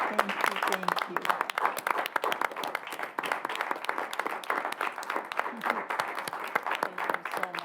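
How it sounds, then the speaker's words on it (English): Audience applause at a college governing board meeting, a steady dense patter of many hands clapping throughout, moderately loud, with a few voices faintly mixed in. "applause, yes"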